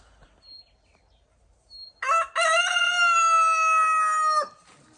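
A rooster crows once, loud and close, a long drawn-out cock-a-doodle-doo that rises and holds before cutting off, with a few faint chirps just before.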